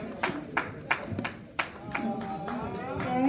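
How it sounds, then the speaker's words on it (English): Scattered applause from a small group honouring a woman receiving a certificate of appreciation at a health programme event, a handful of distinct claps close by with voices talking over them. "Big hand or applause, please. Let us clap for her."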